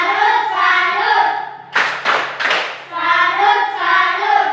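A group claps the tepuk salut cheer in a classroom, three loud bursts of rhythmic clapping between stretches of voices talking.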